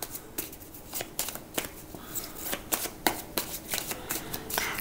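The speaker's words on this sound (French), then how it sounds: "on va tirer une carte de tarot Osho-Zen qui va se rajouter ici" Osho Zen tarot cards being shuffled by hand, a quick run of crisp papery riffles and flicks in irregular bursts, close and fairly quiet with no talking.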